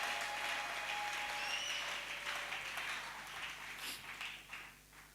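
A congregation applauds during a church worship service in Kinshasa, a dense, steady clatter of many hands that fills the room, then gradually thins and fades toward the end with a few scattered claps.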